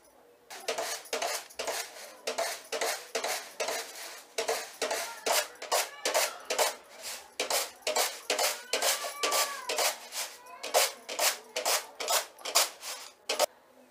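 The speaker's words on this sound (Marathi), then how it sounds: "तर आता हे मूग आपल्याला सुपामध्ये पाकडून घ्यायचे आहे." Split green gram (moong) is winnowed in a traditional supa basket, giving a steady run of close, rhythmic scraping and swishing strokes, each tossing beat sharply repeated over and over with no talk.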